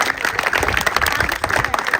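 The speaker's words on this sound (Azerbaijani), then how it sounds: "Alqışlayaq Arzu müəlliməni." Audience applause for a teacher named Arzu at a school history knowledge competition, a dense steady patter of many hands clapping throughout with a faint murmur of voices underneath.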